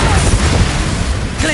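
A loud fiery spell blast from the Confringo spell in Hogwarts Legacy on PS5, a sustained roaring burst that fills the whole moment, with a short voice-like sound near the end.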